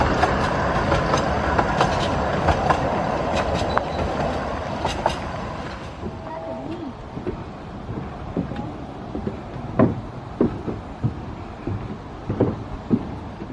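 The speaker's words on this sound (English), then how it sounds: "There goes your small train again." A small park train at Wicksteed Park rumbles past with rhythmic clicking of wheels on track, loud at first then fading as it moves away, leaving outdoor noise and scattered knocks.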